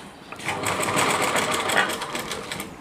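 A sewing machine runs steadily, stitching the lining of a heavy-work Rajputi lehenga, its fast needle clatter close and continuous throughout.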